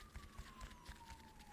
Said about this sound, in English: There's a siren. Hold for siren.